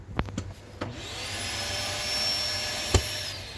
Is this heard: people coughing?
no